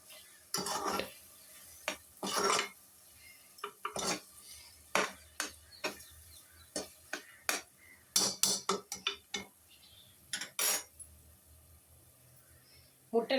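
A metal spatula scrapes and clanks in a pan, mixing egg with vegetables for fried rice in a series of sharp, irregular strokes, close and fairly loud, with light sizzling between them.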